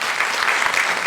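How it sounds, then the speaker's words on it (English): An audience at a YouTube Space Mumbai event with Whistling Woods International applauds the show's creators, a brief burst of dense, even clapping. "Please, a big round of applause again for the creators."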